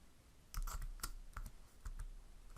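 Quiet, close computer keyboard typing in the VBA editor: a short, irregular run of soft key clicks with small pauses between them, and no voices.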